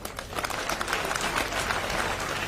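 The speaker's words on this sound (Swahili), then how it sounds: "Mujipigia makofi." University students clap together during a live campus meeting with a politician, a busy, continuous crowd applause with scattered sharper claps, loud and even throughout the short stretch.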